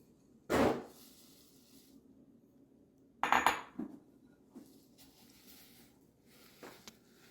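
Puffed rice and dry fruits drop into a bowl for fireless laddus in two distinct clattering pours, a sharp rattle early and a longer scattered rush a few seconds later, followed by faint small taps in a quiet room.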